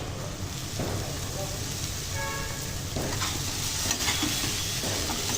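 Boiled cowpeas with green chillies, salt and chilli powder stir-fried in a pan over a medium flame: a dense, continuous sizzle with repeated stirring scrapes, close and loud, with no talking.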